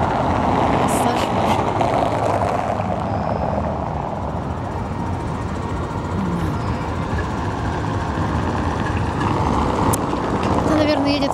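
City bus route 18 approaches along a street at 1905 Square on a summer evening, a loud, steady engine rumble and road roar filling the scene throughout.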